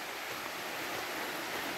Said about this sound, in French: avec une magnifique cascade